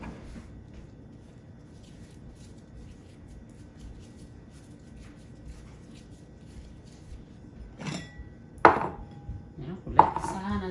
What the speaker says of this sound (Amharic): ይሄንን ያዘጋጀነውን ሊጥ ለሁለት ቆርጠዋለሁ።